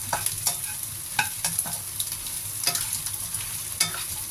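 Garlic and other ingredients stir-fried in a pan for a Chinese dish, with a steady sizzle under irregular scraping clicks of a spatula against the pan, close and without talk.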